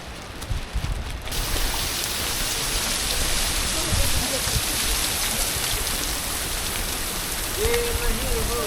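A waterfall on a Harishchandragad mountain trek gives a dense, continuous roar of falling water, loud and close throughout, with faint voices briefly over it.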